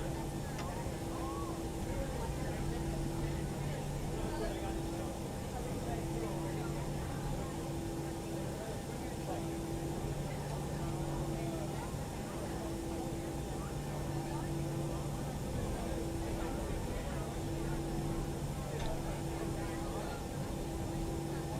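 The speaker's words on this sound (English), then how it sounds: "The plane's noisy when you're on the outside." An airliner engine drones heard from outside the aircraft in X-Plane 11, a steady loud roar with a low pulsing hum, while a person talks over it.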